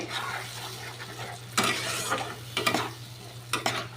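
Ground spices stirred into a pan with green peas and onion-tomato paste, a soft steady sizzle under a constant low hum, broken by a few sharp scraping stirs.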